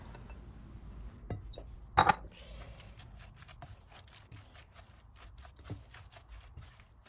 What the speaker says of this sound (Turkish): Ve tüm malzemeyi güzelce karıştıralım.